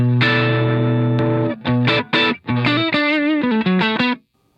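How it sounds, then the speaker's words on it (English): Overdriven electric guitar through a 30-watt 6L6 tube combo amp with a Tube Screamer-style mid boost pedal, playing a held chord followed by choppy chord stabs and a short melodic run, mid-heavy and punchy. "So I'm going to turn on the Tube Screamer side"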